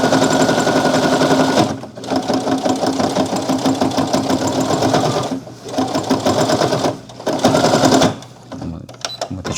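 A sewing machine stitching a fabric bag handle runs fast and loud in steady mechanical bursts, stopping briefly twice and then starting again.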